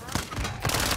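Rapid automatic gunfire in Call of Duty: Modern Warfare II, a loud, dense burst of shots crackling close up for about a second.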